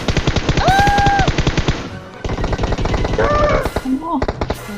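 Automatic weapon fire in PUBG Mobile: loud, rapid, evenly spaced shots in two long sustained bursts with a short break between them, as a voice speaks over the shooting.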